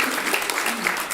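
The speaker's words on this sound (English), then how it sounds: "Let's give her a round of applause" Audience applause at a Sunday church service, a steady wash of clapping that holds at an even level for the whole short stretch, with a faint voice mixed in.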